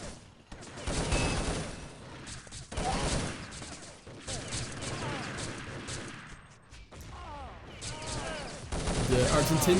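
Rapid bursts of gunfire crackle in a competitive first-person shooter match between national teams, with repeated volleys and single shots in clusters, alongside a commentator speaking over the action.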